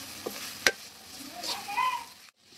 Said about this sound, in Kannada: ಇದು ಕೂಡ ಸ್ವಲ್ಪ ಗಮ್ಮನವರೆಗೂ ವಾಸನೆ ಬರೋವರೆಗೂ ಫ್ರೈ ಮಾಡೋಣ